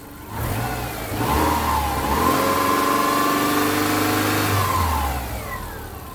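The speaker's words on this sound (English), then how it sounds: "I don't have to sit inside with a scan tool to rev it up. I can use the throttle from the engine." A 2001 Subaru Outback engine, revved by hand at the throttle in the engine bay, climbs from idle to a loud, sustained rev for about four seconds, then settles back down.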